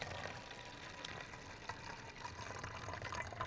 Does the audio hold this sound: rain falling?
no